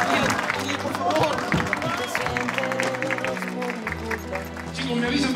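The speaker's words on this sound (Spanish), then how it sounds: "¡Un fuerte aplauso!" A studio audience applauds on a television show, a broad steady wash of clapping lasting throughout, blended with loud music and excited voices.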